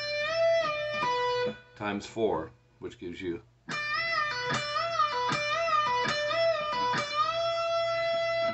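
An electric guitar plays a solo lick of sustained string bends, releases and pull-offs, with a short stretch of speech breaking into the phrase.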